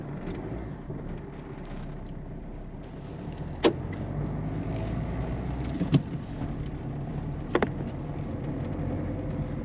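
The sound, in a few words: Peugeot 207 driving with suspension clunk noise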